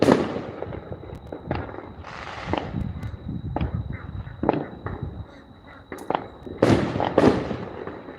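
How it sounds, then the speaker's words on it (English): Repeated Fourth of July firework bangs and crackling pops at irregular intervals, some louder bursts near the end, over a constant high-pitched tone. "Like sitting in the trampoline watching fireworks."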